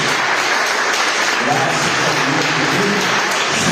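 A church congregation applauding for visitors, dense sustained clapping filling the room for several seconds, with a voice speaking over it briefly.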